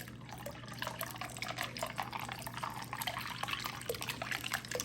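Ginger ale soda from a 2-liter bottle pours steadily into a bowl of fruit punch, a continuous bubbly liquid stream with fizzing splashes, close and alone.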